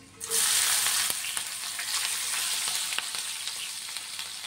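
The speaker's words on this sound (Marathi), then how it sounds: "तर मिरची घालू आपण" Green chilies go into hot oil with peanuts and hing, and a sudden burst of frying settles into a steady, crackling sizzle with occasional pops.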